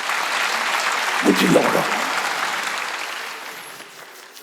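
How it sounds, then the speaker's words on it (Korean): Church congregation clapping during a Sunday worship sermon, a broad wash of applause throughout with a voice speaking briefly over it near the start. "깨달은 사람은 박수. 박수 세게 치라고요."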